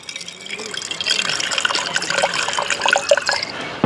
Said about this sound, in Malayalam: നമ്മൾ ഈ പച്ചവെള്ളത്തിൽ നിന്നും ഒരു 60 ഒഴിക്കുകയാണ് കേട്ടോ